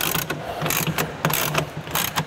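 A ratchet wrench clicks while tightening a rail clamp on a BakFlip CS tonneau cover, a burst of rapid pawl clicks repeated in several short strokes, close and fairly loud with no talking.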